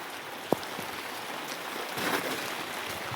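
Rain patters steadily on an outdoor surface, a diffuse broadband hiss that swells slightly near the end, with one sharp knock early on and no voices.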